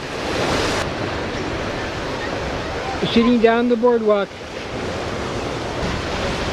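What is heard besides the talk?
ocean waves coming in by boardwalk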